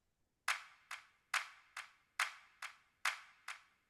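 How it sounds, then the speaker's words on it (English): Clap sample in a music production beat, eight sharp hand-clap hits in steady rhythm, each a bright crisp snap with a short decaying tail, clean and alone. "So then you have your claps."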